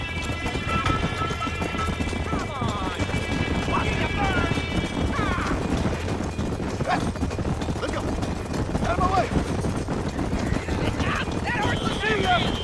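A horse gallops with steady rapid hoofbeats in the Western video game Red Dead Redemption during a race, with occasional whinnies and game effects, while someone talks over it throughout.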